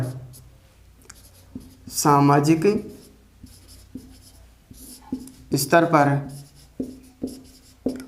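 Chalk or marker scratches on a board during a lecture, short tapping and scraping strokes in an irregular rhythm, close and clear, with a voice speaking Hindi between and over the marks.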